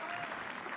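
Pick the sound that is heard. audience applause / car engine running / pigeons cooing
audience applause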